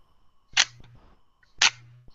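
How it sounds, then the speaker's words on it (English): A single-lens reflex camera shutter opens with a sharp click, then closes with a second click about one second later, a one-second exposure heard close and alone against silence. "I just want to show people what a slow shutter speed sound is"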